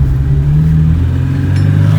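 A ZAZ-11055 pickup's small engine, under 70 horsepower, pulls hard close up with a loud, steady low rumble and a brief break near the end as it shifts into second gear.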